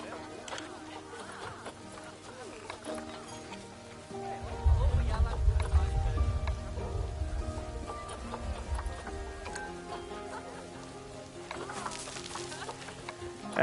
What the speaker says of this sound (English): It's raining in my zoo.